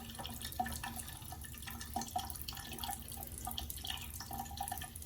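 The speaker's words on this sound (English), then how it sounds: "she sprinkles the water on very judiciously and then slowly" Water sprinkled sparingly onto drywall joint compound and slowly mixed in, giving close, soft wet drips and small clicks over a quiet background, with no talking.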